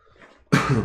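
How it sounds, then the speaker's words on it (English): A single sharp cough from someone battling a cold bursts out loud and close after a quiet moment, rough and breathy with no speech around it. "pardon my cough"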